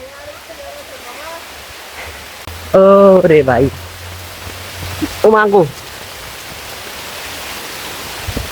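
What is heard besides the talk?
heavy rain falling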